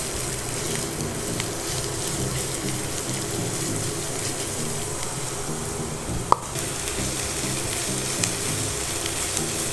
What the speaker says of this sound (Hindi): अब इसमें हम बारीक कटा प्याज डालेंगे